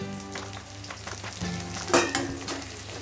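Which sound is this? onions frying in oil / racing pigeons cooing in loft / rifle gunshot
onions frying in oil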